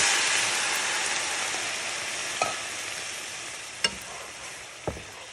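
Cooking wine bubbling and sizzling in a hot pan with Italian sausage, a loud broadband hiss that slowly fades as it cooks off, punctuated by three sharp utensil clinks.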